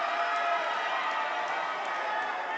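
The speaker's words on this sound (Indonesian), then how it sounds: "Silakan kami berikan kesempatan untuk memberikan yel-yel bagi paslon nomor urut 2." A large crowd of supporters at a West Java gubernatorial election debate yelling and cheering for candidate pair number 2, a dense, steady roar of many voices filling the room without any single speaker standing out.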